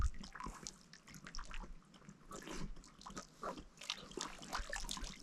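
Wild horses drink at a desert spring, with soft, irregular slurps, drips and gulps of water close by, faint against an otherwise quiet open setting.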